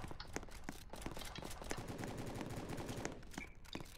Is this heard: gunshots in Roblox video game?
yes